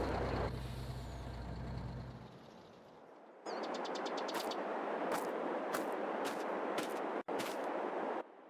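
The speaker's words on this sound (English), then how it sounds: "Left the truck running." A pickup truck left idling in Farming Simulator 22: a steady low engine drone, then a brighter continuous hum with repeated hissing, air-brake-like bursts and clicks, moderately loud with no talking.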